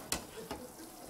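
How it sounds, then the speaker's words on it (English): Carrots being stirred in a pan give two quick scraping clicks over a faint, soft sizzle, quiet and close. "Go stir the carrots a little bit."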